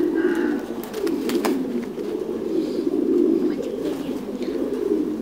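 A flock of Thai Titan breeding pigeons at a farm in Dak Lak coo steadily, many birds overlapping in a low rolling murmur, with a few scattered clicks and brief flutters and no voices.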